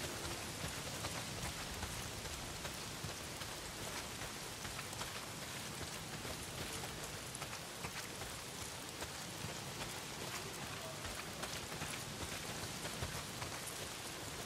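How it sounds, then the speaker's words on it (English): Heavy rain pours in the video game Days Gone, a dense, steady roar of drops hitting the ground that stays even and loud throughout, with no voices. "Well, not if it's pissing down the rain."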